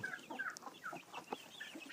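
Broody setting hens clucking softly in a pen, a faint scatter of low murmured clucks and brief calls close by, with no one talking.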